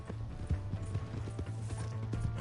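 A horse gallops in the video game Red Dead Redemption 2, with steady rhythmic hoof clip-clops close by over a low rumble, and a faint voice in the background.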